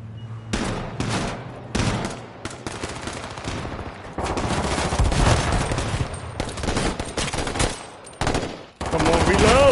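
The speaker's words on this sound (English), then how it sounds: "I hear gunshots." Bursts of rapid automatic gunfire crackle loudly in repeated volleys, with brief pauses between, sounding like a video game firefight.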